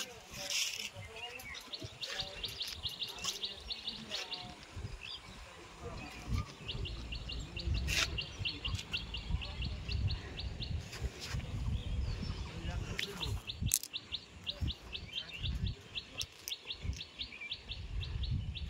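Small birds chirping in repeated quick high trills, faint and somewhat distant, with scattered handling bumps and occasional voices nearby.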